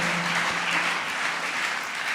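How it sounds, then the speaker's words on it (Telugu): A congregation at a fasting and prayer gathering claps in praise to God: an even, soft wash of many hands clapping together, sustained and without voices over it. "చప్పట్లు కొడుతూ దేవునికి స్తోత్రాలు."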